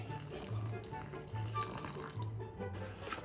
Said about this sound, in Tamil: தண்ணி முதல்ல அதிகமாக ஊற்றிடாமல் கொஞ்சம் கொஞ்சமாக ஊற்றுங்க.